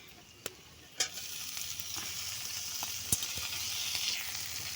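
Tomato and onion sauté in a hot pan, a continuous sizzle punctuated by several sharp spoon scrapes and taps against the pan, close and moderately loud with no talking.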